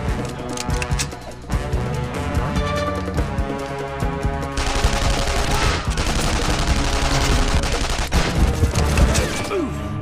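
Dense bursts of video game gunfire from Counter Spy crackle continuously, with rapid shots layered over a busy, loud battle soundscape.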